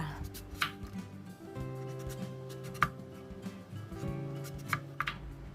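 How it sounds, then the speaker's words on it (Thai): Repeated knife cuts through peeled taro, slicing it into rounds about 1 cm thick, crisp chopping strokes at an uneven pace against a steady hum, close by with no talking. "จากนั้นหั่นแว่นให้ความหนาประมาณสัก1เซนค่ะ"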